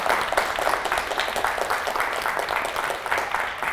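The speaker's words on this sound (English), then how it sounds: "Guys, can we have a round of applause for Sheryl, please?" A crowd at a business Q&A session applauds Sheryl of Cupcake Central, dense rapid clapping from many hands forming a steady, fairly loud roar that holds throughout without talk.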